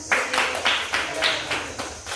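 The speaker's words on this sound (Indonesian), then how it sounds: "Tepuk tangan semuanya" Classmates clap together in a classroom after a biology lesson on river pollution, a group of roughly eight evenly spaced clap bursts rising and falling over a couple of seconds at moderate loudness.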